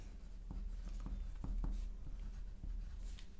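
A pen writes across a strip of ticker tape for a geologic timeline, making soft, close scratchy strokes in short irregular bursts with a low hum behind them.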